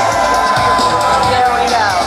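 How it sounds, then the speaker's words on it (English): Crowd at the NBA Experience grand opening at Disney Springs cheering and applauding, a loud continuous roar of voices and clapping that fills the whole stretch without letup. "you can give him an extra round of applause"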